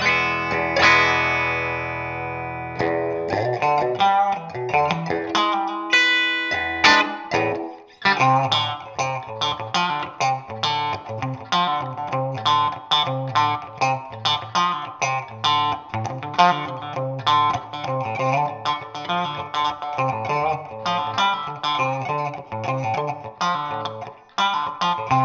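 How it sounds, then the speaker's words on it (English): An electric guitar with both pickups on and wired out of phase plays a thin, hollow, slightly distorted tone, opening with a sustained chord and moving into a long run of busy, rhythmic riffs heard alone. "Next position over, you have both pickups on, but now they are out of phase with each other."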